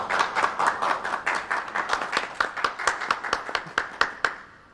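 Guests clap for a couple at a civil wedding ceremony, a steady rhythmic patter of many hands that holds for several seconds and then stops, with little talk over it.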